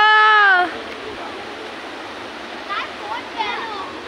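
Fast-flowing cold mountain river near Kalimpong, a steady broadband rush of water heard up close throughout, with a brief voice at the start and faint bits of talk over the flow.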